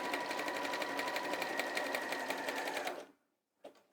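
A sewing machine runs steadily for about three seconds, stitching along the edge of a linen cross-back apron, then stops. A short faint knock follows after a brief silence.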